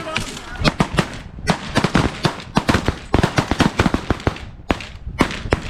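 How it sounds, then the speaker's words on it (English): Shotgun blasts fired at geese during a 2021 goose hunt, a rapid volley of many loud, sharp shots in close succession, some overlapping, with shouting voices in between. "Shoot, guys, shoot him."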